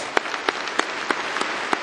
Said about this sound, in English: Please give our Vice President and Provost a round of applause.